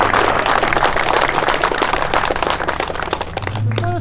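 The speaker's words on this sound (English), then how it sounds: "clap for Milo" A crowd clapping for Milo, heard as steady, dense applause from many hands that holds loud throughout and fades slightly at the very end.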